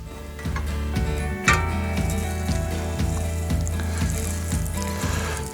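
A Monte Cristo sandwich sizzles and crackles steadily in a hot pan nearby, with regular faint ticking pulses running underneath the frying.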